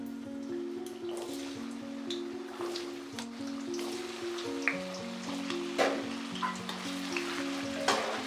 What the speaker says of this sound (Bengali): তেলটা গরম হয়ে গেছে, এখন তেলের মধ্যে আলুটা নিয়ে নিচ্ছি।